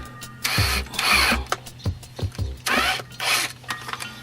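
A drill bit opens up the hose fitting on a replacement Homelite chainsaw carburetor in short, loud bursts of grinding and whirring, separated by brief pauses and small clicks.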